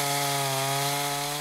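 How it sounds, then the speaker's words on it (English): A chainsaw runs at a loud, steady high rev, cutting up storm-damaged trees in New Albany during cleanup. The engine whine stays continuous and close without a break, and no one talks over it. "The sounds of chainsaws were heard throughout parts of New Albany today as cleanup began from storm damage."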